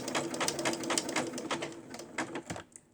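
A sewing machine stitches a button onto doll clothing, giving a fast, rhythmic clatter of needle strokes that runs steadily close up, then stops near the end.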